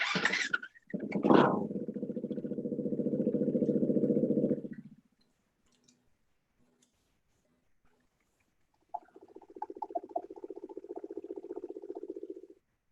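Husqvarna FE 350 dirt bike engine starts with a sharp burst and runs steadily for a few seconds, falls silent, then fires up again and settles into an even, pulsing idle, loud and close.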